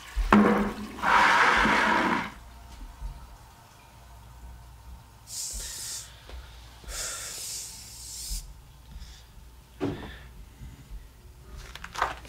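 A toilet flushes as waste is poured down it in a TV drama scene. A loud rushing gush comes first, then quieter hissing bursts of water, with a faint voice now and then.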